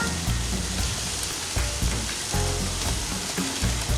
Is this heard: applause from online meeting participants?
no